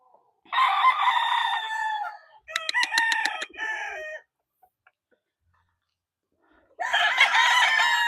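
A rooster crows loudly and close by in a backyard, twice in quick succession, then again after a few seconds of silence.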